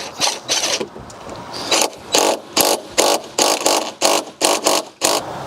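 A part being tightened back up with a cheap Temu ratchet tool, a loud, close run of rapid ratcheting bursts repeating in a steady back-and-forth rhythm, each stroke a buzzy clicking rattle.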